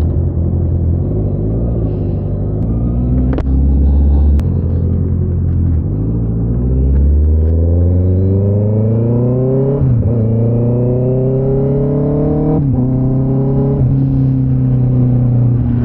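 Honda CB650R motorcycle exhaust revving up repeatedly, loud and close, with rising engine tones climbing in several surges over a steady low rumble, no talk.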